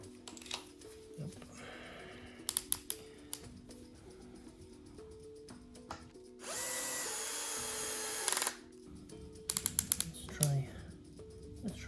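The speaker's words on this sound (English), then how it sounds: "I've got the right drill bit for it" A power drill drives into a wooden bed frame during a DIY build, with a sustained whirring burst of about two seconds between short clicks and handling knocks, fairly close and loud, with brief talk elsewhere.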